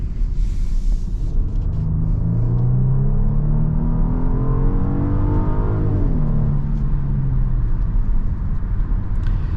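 A 2022 Genesis GV80 3.5 SUV in sport mode: a steady engine note rises as it accelerates, holds, then drops back, with constant road and tyre rumble beneath and no talk.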